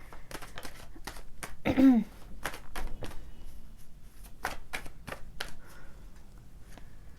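Tarot cards being shuffled and drawn by hand: a series of crisp slaps and flicks, close and fairly sharp, with one louder rustling burst partway through.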